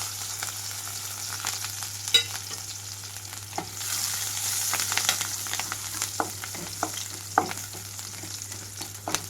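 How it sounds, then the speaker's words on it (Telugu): Cumin seeds, green chillies and garlic cloves fry in hot oil for vegetable fried rice, a steady close sizzle broken by sharp crackles and pops and scraping stirs, with no talking. "ఇక్కడ ఆయిల్ అంతా హీట్ అయిన తర్వాత జీలకర్ర 1 స్పూన్ వరకు వేసుకున్నాను. అలాగే ఇవి అంతా వేగిన తర్వాత పచ్చిమిరపకాయలు, వెల్లుల్లి రెమ్మలు వేస్తున్నాను."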